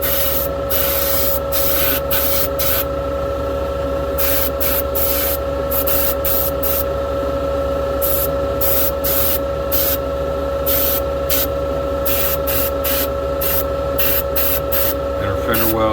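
A spray gun lays a final coat of paint on race boat parts, firewall and fender wells, hissing in repeated bursts with short pauses over a steady background hum.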